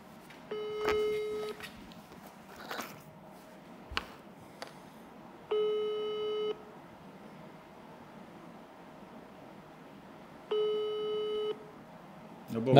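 A phone's outgoing ringing tone sounds three times, each burst about a second long and spaced roughly five seconds apart, clear and moderately loud, with faint background noise and brief clicks between rings.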